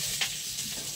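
Chicken and vegetables for chilli chicken frying in a pan, a steady close sizzle with a brief scrape of stirring near the start, no voices.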